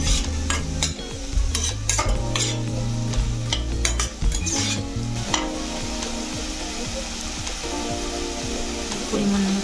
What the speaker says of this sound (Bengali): ভালো করে নাড়াচাড়া করে মশলাটাকে কষিয়ে নেব।